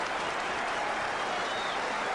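A stadium crowd applauds at the close of a boxing title fight, Lester Ellis against Barry Michael, with dense, steady clapping that sounds moderately distant and continues without a break.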